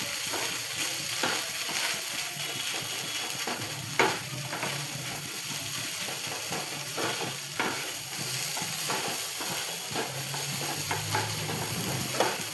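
Chana dal sizzles and fries in a pan while being stirred, a steady crackling hiss with occasional scraping strokes and small knocks throughout, and no voices.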